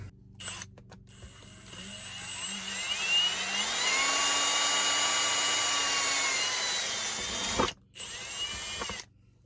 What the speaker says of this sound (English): So I got a drill in my 3/8 bit here.